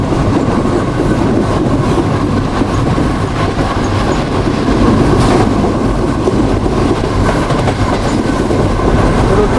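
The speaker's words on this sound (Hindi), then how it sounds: "तो दोस्तों ये आदम वहाँ रेलवे स्टेशन पर अप्रोच बना रही है ट्रेन।" A train runs on rails as it approaches a railway station, a loud continuous rumble with clickety-clack wheel rhythm throughout, heard up close with no talking.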